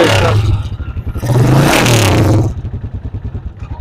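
A used Honda 125 motorcycle at a second-hand bike market is revved close by, its engine rising twice into loud roaring bursts between a choppy, thumping idle.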